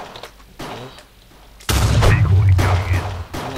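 A grenade bursts in a Counter-Strike match, a sudden loud low blast that breaks a quiet stretch of soft footsteps and clicks, then rumbles on briefly before fading.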